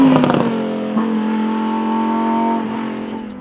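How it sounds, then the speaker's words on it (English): A Lamborghini Huracan STO accelerates hard, its engine note rising loud and close with a sharp shift blip early on before settling into a sustained, strained howl that tapers slightly at the end. "this Lamborghini makes itself known with noise, vibration, and harshness"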